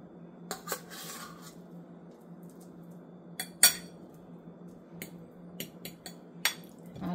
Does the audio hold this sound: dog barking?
no